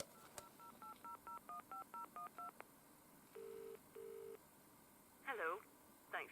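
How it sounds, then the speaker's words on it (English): Last-number redial on a 1988 ivory British Telecom Minstrel telephone: a rapid run of about ten short touch-tone beeps, then two longer ringing tones and warbling bursts from the line, faint against background hiss. "I'll just show you last number redial."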